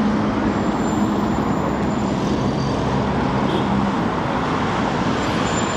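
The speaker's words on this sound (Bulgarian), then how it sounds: "Доста голям трафик." Heavy rush-hour traffic in Dushanbe, Tajikistan, a dense continuous roar of cars, buses and trucks with a faint hiss of an air brake, steady and fairly loud with no voices.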